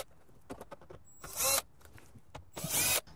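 A power tool backs out 10 mm bolts during work on a 2014–2017 Lexus CT, giving two short, loud whirring bursts separated by quiet moments with faint handling clicks.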